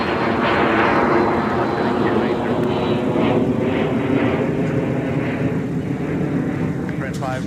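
A Sun Country airliner departs from Minneapolis–St. Paul airport under a low cloud base, its engines a steady distant roar filling the clip, with some voices in the background.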